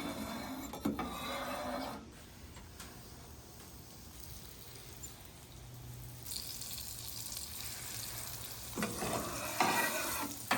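Steak sandwich meat fries on a griddle with grease funneled back in, a loud continuous sizzle with scraping and stirring surges near the start and end, close and alone.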